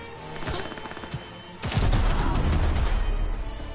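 Pistol fire in the video game Cyberpunk 2077, a few sharp shots followed by a dense burst of loud, booming gunfire and rumble that continues to the end.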